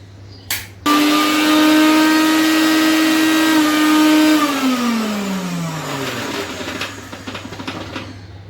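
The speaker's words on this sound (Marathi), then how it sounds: "हे बघा मिक्सरला मी आता फिरवून घेते." A kitchen mixer grinder whirs loudly as it grinds coconut with warm water, starting abruptly after a brief knock, running at a steady high pitch, then dropping in tone as the motor slows near the end.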